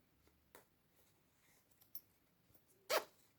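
A zipper on a travel shoe bag is drawn closed in a few short separate pulls, with one louder rasp near the end, close and alone in a quiet room.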